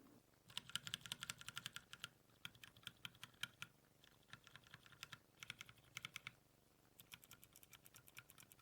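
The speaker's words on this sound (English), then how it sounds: "sound is very clacky, which at this point is a signature of Akko switches" Quiet, rapid clacky keystrokes from a mechanical keyboard with Akko CS Jelly Blue switches, typed in bursts with brief pauses, close and crisp.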